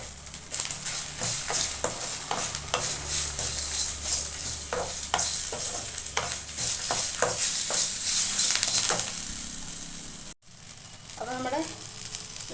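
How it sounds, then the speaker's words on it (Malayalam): Garlic frying with curry leaves in a hot pan, stirred with repeated scraping strokes over a steady sizzle, close and fairly loud, with a brief break near the end before softer sounds. "ഒരു വെളുത്തുള്ളി ഇടുന്നുണ്ട് കേട്ടോ"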